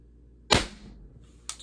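A single sharp air gun shot from an accidental discharge cracks out loud and close, followed by a fading tail and a second, softer click or impact about a second later.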